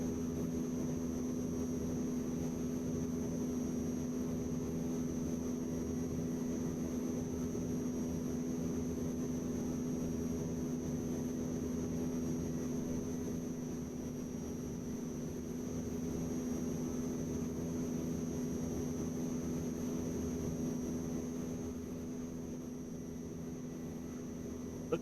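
A generic jet aircraft in a flight video game flies with a steady, continuous engine drone and hiss, holding constant throughout with a slight dip near the end, no voices.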